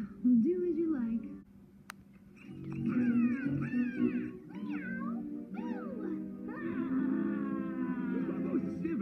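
Several drawn-out, wavering cartoon cat meows sound close by, some low and growly, others rising and falling in pitch, with a voice heard between them.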